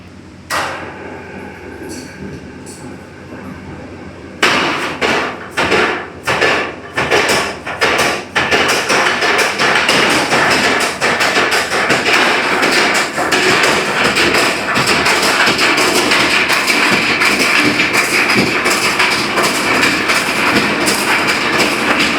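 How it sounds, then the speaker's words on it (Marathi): A kandap spice pounding machine crushes chillies and poppy seeds at Vashi APMC market. It gives loud, heavy rhythmic thuds that soon merge into a continuous clattering mechanical roar, close and dominant throughout. "आता हा कांडपमध्ये जाणार आहे मशीन मध्ये"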